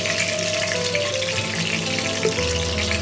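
Ghee sizzles in a pan for a vegetarian cabbage rezala, a steady, close, continuous frying hiss that stays even throughout, with no voices.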